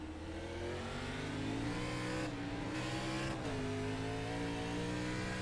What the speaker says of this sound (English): He just had horrible wheel spin.